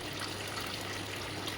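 Water trickles and splashes from the pump holes of a home air cooler during cleaning, some holes partly blocked, giving a faint, steady, hissing flow with no talk.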